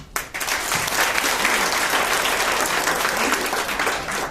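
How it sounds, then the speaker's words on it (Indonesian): Indoor audience at a gathering of agents from five agencies breaks into steady, full applause, clapping dense and sustained throughout at close range. "Beri aplaus untuk para KPN kita."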